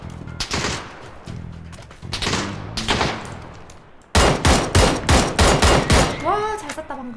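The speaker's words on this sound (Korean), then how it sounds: "와 잘 쐈다 방금. 쓰리탭 척척척." Gunfire in PUBG, rapid loud shots with a quick three-round burst near the end, preceded by a few scattered single shots, close and punchy.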